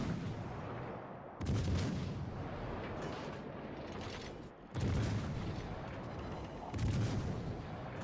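Heavy naval gunfire from the battleship Iowa in a naval combat video game. The salvos come as booming blasts roughly every three seconds over a steady rumbling battle backdrop.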